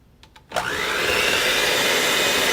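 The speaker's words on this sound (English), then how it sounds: "now I'm going to add my flour, my baking soda, and the salt. And I'm going to mix that together." An electric mixer whirs on steadily after a short quiet start, blending flour, baking soda and salt for low-carb chocolate chip ice cream sandwich cookies. The motor noise is close, loud and continuous, with no talking.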